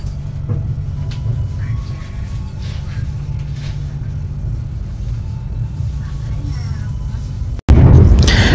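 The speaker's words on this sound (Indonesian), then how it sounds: "Perjalanan naik kereta api Menoreh ini sudah meninggalkan stasiun Cirebon Perujakan." Low, steady rumble of the KA Menoreh passenger train departing Cirebon Prujakan station in Indonesia, close and continuous, ending in a sudden louder burst of noise.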